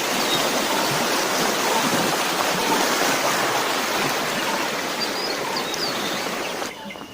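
Water rushes steadily along a canal fed by a diverted river, a close, dense, continuous flowing hiss at even loudness that eases slightly at the very end.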